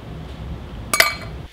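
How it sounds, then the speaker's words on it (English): Ice cubes shaped like the Scooby-Doo van give a single bright clink against glass after a low muffled shuffle, close and brief, with no one speaking. "Now we have some ice cubes in the form of the Scooby-Doo van."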